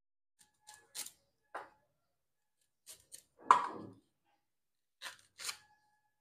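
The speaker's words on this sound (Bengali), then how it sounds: "এবারে আমি কাঁচা কলা আর আলু কেটে নেব।" Several short, crisp knife cuts through raw plantain and potato, spaced irregularly with quiet pauses between, close and fairly soft.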